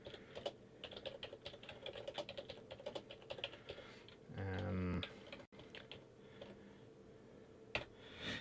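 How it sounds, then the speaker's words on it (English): Fast typing on a computer keyboard, a dense run of quiet close key clicks, briefly interrupted by a short electronic tone, then a few more scattered taps. "I'm just going to type something in here for 1 second."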